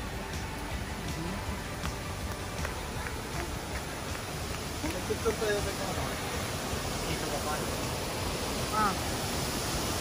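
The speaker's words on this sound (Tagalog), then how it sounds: "Waterfalls number 2." Waterfall at Bolinao, Pangasinan, a steady broadband rush of falling water filling the scene, with faint voices talking in the background.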